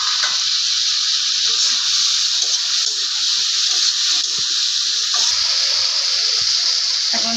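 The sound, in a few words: eggplant frying in a pan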